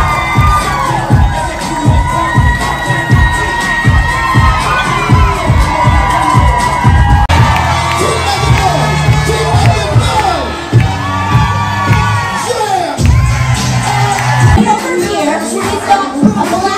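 Crowd of cruise passengers cheering, whooping and shouting at a lively sail-away deck party aboard an NCL ship, with music pulsing underneath; loud, continuous and close throughout.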